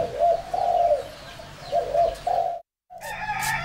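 A caged spotted dove coos up close in repeated soft, throaty phrases, then falls briefly silent before a fresh burst of calls.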